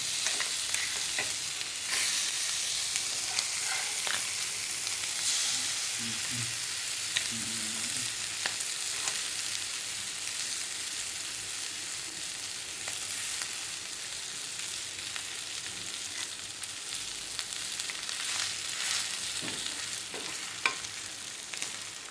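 Sardines (mathi meen varuval) are frying in a pan, giving a long, even sizzle with occasional light spatula knocks and turns, no voices present.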